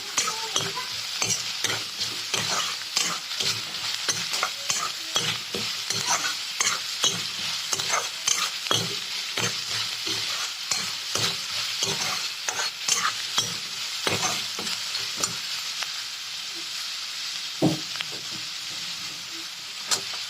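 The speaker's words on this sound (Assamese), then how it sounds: "এতিয়া এইখিনি গোটেইখিনি মই ভাজিম ভালদৰে" Arhar dal with taro and spices stir-fried in oil: steady, close scraping and clattering of a spatula against the pan over a continuous sizzle for about twenty seconds, with no voices.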